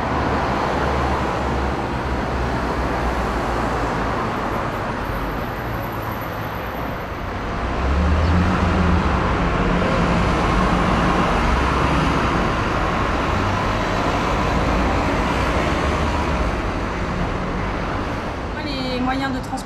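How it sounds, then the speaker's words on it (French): Steady, dense city traffic roar fills a street in Lyon, France, a continuous wash of engines and road noise that swells slightly midway, with faint voices mixed in. "C'est vraiment désagréable, les bruits de la ville."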